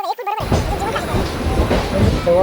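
A crowded passenger train to Mumbai rumbles steadily with a broad rushing clatter, and faint voices are heard over the noise.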